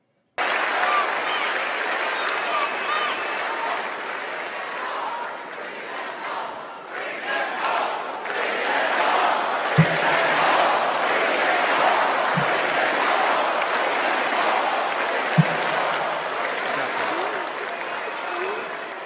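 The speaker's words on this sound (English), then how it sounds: "Take a listen to a bit of just the applause and the reception that they got as they entered the room." A large convention crowd at the Democratic National Convention roars with sustained applause, cheering and shouting, a loud continuous wash that swells and holds for the whole stretch, with a few sharp knocks.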